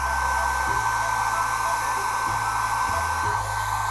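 A hair dryer blows hot air onto a doll's prosthetic leg to soften it, a constant close whooshing roar with a motor hum that runs without pause.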